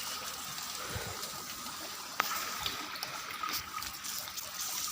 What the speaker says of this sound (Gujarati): બોર ચાલુ જ છે, જુઓ તમે પાણી આવવાનું છે